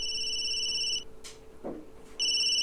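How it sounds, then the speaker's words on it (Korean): A telephone rings in the Nintendo Switch game Ace Attorney 456, two electronic tones in bursts with a short gap between them and soft game sounds in the pause. "전화가 울리네요."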